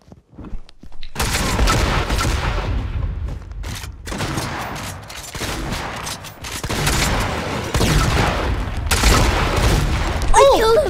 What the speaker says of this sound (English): How do you use this sniper?